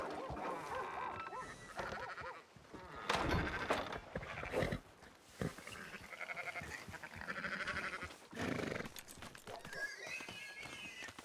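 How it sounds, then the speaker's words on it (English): Sheep bleating in the Red Dead Redemption 2 video game, several animal calls mixed with game ambience and other livestock sounds across a busy, fairly loud scene with no clear speech. "Fine sheep."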